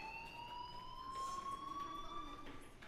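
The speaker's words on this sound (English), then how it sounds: "do you hear that fire alarm? That means you should be outside." A fire alarm in the video game Life is Strange wails as a steady rising electronic tone with harmonics, faint and distant in the mix.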